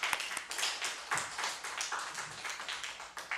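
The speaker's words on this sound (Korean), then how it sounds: "하나님께 영광의 박수 돌리겠습니다" Church congregation members at a Thursday evening revival service clap in a rhythmic, moderately loud burst, the claps falling in a fairly even beat throughout.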